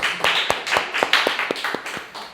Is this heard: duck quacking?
no